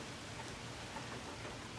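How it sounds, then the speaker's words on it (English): Rain falls during a thunderstorm as a steady, even hiss of drops on a wet porch, faint and continuous with no thunder and no voices. "this is the thunderstorm right now. It's just raining, but there was thunder."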